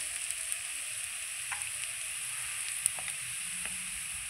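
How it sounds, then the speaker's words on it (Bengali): Onion and garlic frying in hot oil, with a steady soft sizzle and a few light clicks from stirring, fairly quiet and without talk. "আমার পেঁয়াজ রসুন খুব সুন্দর করে ভাজা হয়ে গেছে"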